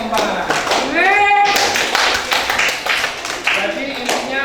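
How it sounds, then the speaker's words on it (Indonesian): Classroom applause for a student group at an Islamic religious education lesson, a burst of close hand clapping and tapping mixed with children's voices and chatter, steady throughout. "beri tepuk tangan untuk kelompok 4"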